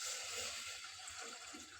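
Water poured from a cup into a cooking pot holding washed sago pearls for milk payasam, a steady splashing pour heard close and alone, easing slightly toward the end.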